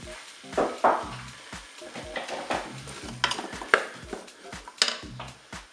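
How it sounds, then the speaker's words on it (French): Potatoes are dropped into a hot cooking pot and burst into a close sizzle, with repeated scraping stirs and light metallic clinks of a utensil against the pot. "Je vais mettre les pommes de terre dans la cuve."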